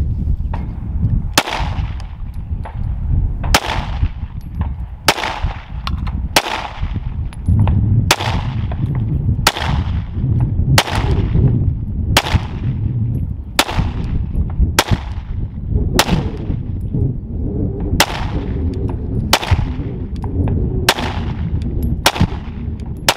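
Gunshots fired during a shooting drill, in a steady series of about sixteen loud, sharp reports roughly one to one and a half seconds apart, each with a short ringing tail.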